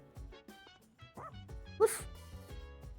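The dog Koromaru in the video game Persona 3 Reload gives short barks and yips, a few quick bursts with one louder sharp bark, over soft game music.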